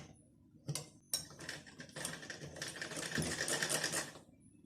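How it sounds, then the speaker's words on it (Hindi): Sewing machine running a topstitch along a blouse lining, a close, steady rapid whirring patter that starts with a couple of clicks and runs for about three seconds before stopping. "अब इसके ऊपर से जो है एक दाब सिलाई लगा देंगे"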